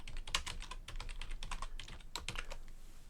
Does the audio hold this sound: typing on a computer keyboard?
yes